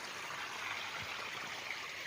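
A small stream on a farm lot beside a river in Siniloan, Laguna, flows with a faint, steady rushing murmur heard close by and alone.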